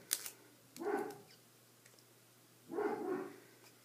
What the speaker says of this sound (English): you can probably hear my dog barking